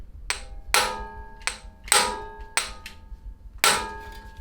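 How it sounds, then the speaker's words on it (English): Six sharp metallic hammer strikes on a tool, each ringing briefly, spaced unevenly about half a second apart, while loosening a part on a 1970s mini chopper. "you give it a good strong hit with a hammer"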